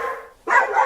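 Cartoon dogs bark in a Hindi animated comedy, giving two loud, close yelping barks separated by a short pause, with no other sound.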